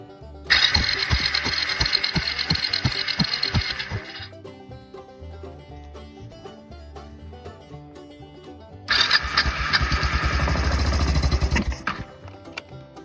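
A Kawasaki KLF300 Bayou ATV engine with a no-spark fault, cranking over on the starter in two loud, whirring bursts separated by a quieter pause, close to the microphone.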